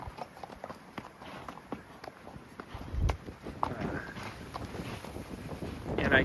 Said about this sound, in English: It is really windy, and we're going into the wind right now.